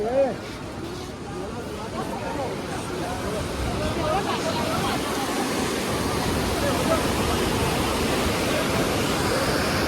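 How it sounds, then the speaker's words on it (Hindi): Yamuna river flowing at Yamunotri, a steady broadband rush of water running continuously throughout, with a voice briefly audible near the start. "ये चल रही है यमुनोत्री नदी"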